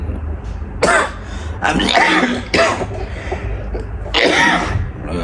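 Several harsh coughs in separate bursts, close and loud, with short pauses between them.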